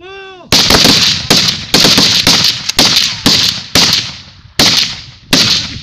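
Soldiers of the Kenya Defence Forces fire rifles in short bursts during a training drill, a rapid series of loud, sharp cracks repeating roughly every half second to second, close and dominant, with a brief shouted command just before.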